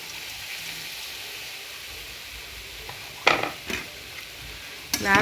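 Sri Lankan kottu roti made from packet kottu is added to a pan and mixed, giving a faint, steady sizzle broken by a few sharp scraping clatters of the spatula against the pan.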